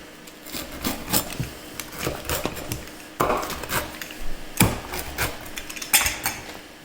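Knife or cutter slicing through a crunchy pizza baked in a Chefman electric pizza oven, giving a run of close, dry crackling crunches and scrapes with a few sharper snaps, no talk over it.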